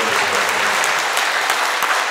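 An audience at an anniversary ceremony in a traffic hall in Jamsil breaks into loud, sustained applause, dense clapping filling the room with no speech over it.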